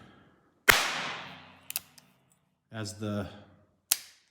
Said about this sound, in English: first we're gonna shoot some caps